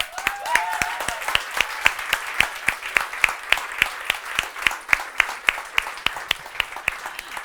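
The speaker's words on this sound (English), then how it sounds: "Let's give them all a round of applause." Steady applause from an audience at a startup pitch demo day, many hands clapping in a dense, continuous patter with no talking over it.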